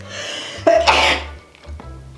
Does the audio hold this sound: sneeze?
yes